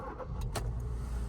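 A 2015 Kia Rio 1.25 four-cylinder with 82,000 miles turns over with a brief burst as it starts, then settles into a low, steady idle rumble, heard fairly quietly from nearby with no talking.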